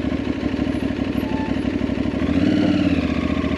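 A motorcycle engine runs steadily nearby with a rough, chugging idle, rising slightly in revs partway through; no talking.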